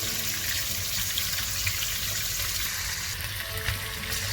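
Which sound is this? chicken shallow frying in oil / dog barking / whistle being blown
chicken shallow frying in oil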